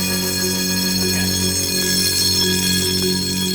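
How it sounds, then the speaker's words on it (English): An alarm bell rings continuously and loudly, a steady metallic tone with no pauses, set off during a test of a compact fluorescent bulb. "bell's going to ring, and we'll know to come running"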